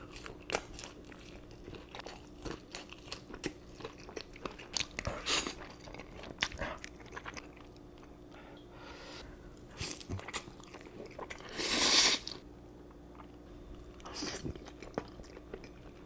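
Spicy Buldak-sauced Wingstop chicken wings are bitten and chewed up close, with soft crunches and scattered mouth sounds spread over the stretch and one louder burst near the end. The sounds are quiet, and a voice is heard at times.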